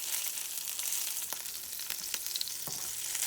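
Duck leg confit sizzles and fries steadily in a pan, a constant close crackle with a few sharper pops and taps, no talking.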